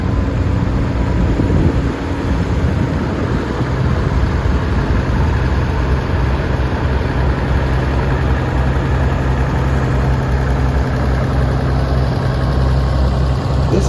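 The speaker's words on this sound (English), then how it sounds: "A Minneapolis Moline, model GB." A Minneapolis Moline GB tractor engine running in a show parade of power, pulling an 8-foot disc with a hydraulic lift: a steady, loud low rumble that holds even throughout with no talk over it.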